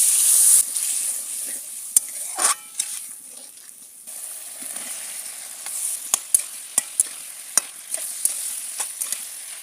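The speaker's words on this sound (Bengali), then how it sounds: "মশলা ভালো করে কষিয়ে নেওয়ার জন্য দিয়ে দেবো একটু পানি।" Spice paste with salt and turmeric sizzles steadily in a wok as water is added, with sharp clicks and scrapes of stirring over the continuous hiss.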